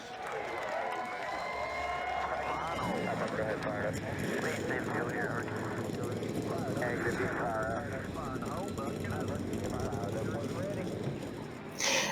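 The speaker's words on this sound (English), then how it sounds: "Drivers, start your engines!" Race car engines fire up together in the NASCAR Racing 2003 video game at Rockingham in the United Kingdom, a dense, continuous roar with droning, aircraft-like tones held at steady loudness throughout.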